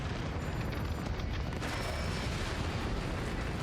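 A mech's reactor exploding in the video game Mechwarrior 5 makes a steady, loud, rumbling blast that carries on through the whole stretch without a clear break.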